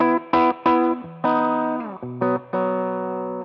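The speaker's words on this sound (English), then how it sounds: "here's the amplifier sound." Electric guitar played straight into a Marshall-style amplifier with no pedal, several loud, distorted chord stabs and sustained notes, close and clear with no talking.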